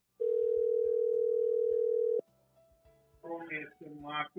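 A steady telephone dial tone hums for about two seconds, then cuts off, followed by a faint tone and a person talking.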